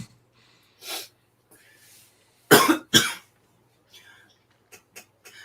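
A pair of loud, close coughs in quick succession, with a softer breathy burst before them and small sounds after.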